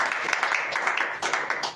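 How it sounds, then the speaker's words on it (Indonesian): A church congregation claps together during a worship service, a brief burst of uneven, fairly loud applause with sharp individual claps standing out. "beri tepuk tangan yang meriah buat Tuhan"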